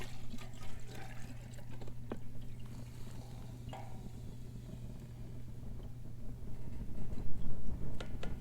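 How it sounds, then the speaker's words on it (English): Diesel fuel poured into a waste oil heater, a soft liquid trickle and pour heard over a steady low hum from the running heater, building a little louder toward the end. "All right, in with the diesel."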